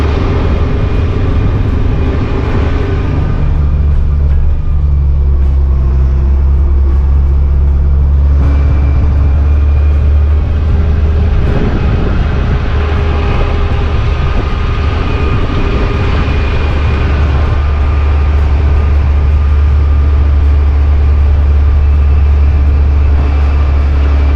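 A vehicle drives steadily through a remote area over a long Labor Day weekend trip, its loud, continuous low engine and road rumble holding steady throughout with no talking.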